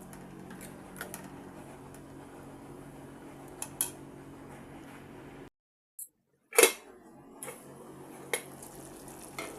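A spoon stirs a fresh coconut and chana dal curry in a pot, giving scattered scrapes and light clinks over a low hiss, then a lid is set down with a sharp metallic clatter before quieter clinks.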